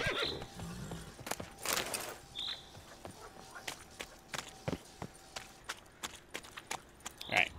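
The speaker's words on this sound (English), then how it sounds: "Stupid horse." A horse in The Witcher 3 video game gives several short whinnies among a scatter of sharp hoof clops and footsteps, fairly quiet and intermittent, with a faint voice now and then.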